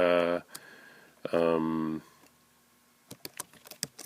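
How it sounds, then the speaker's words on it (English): Computer keyboard being typed on while a person talks at the start, then a short cluster of separate, sharp key clicks near the end. "then I could type my text here"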